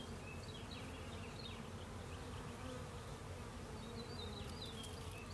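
Honey bees swarm and buzz around a hive during a transfer, a dense, steady drone of many wings close by, with scattered higher whines from individual bees passing the microphone.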